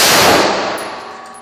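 A single loud 5.56 rifle shot at an outdoor gun range, a sharp crack with a ringing metallic tail that fades over about a second, with no voices.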